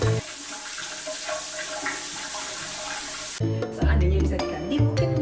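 Water flows and gurgles down a hotel bathroom drain, a steady sewer-like rushing with a sudden shift in character partway through, close and fairly loud.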